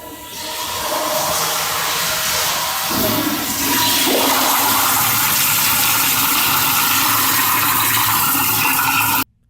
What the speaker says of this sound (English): he'll also grab 18 feet of toilet paper and shove it in before flushing